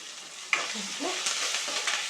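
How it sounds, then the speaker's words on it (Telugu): Tomatoes cooking down in oil in a pan, soft sizzling broken by a sharp spoon scrape and a few stirring scuffs, close and fairly quiet with no talking. "ఇంకొంచెం మగ్గాలండి టమాటా కొంచెం మగ్గితే రెండు నిమిషాలు"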